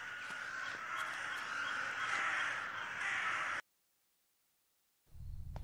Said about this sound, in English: I can hear birds.